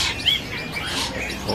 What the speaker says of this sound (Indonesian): Nah, ini Red Lori.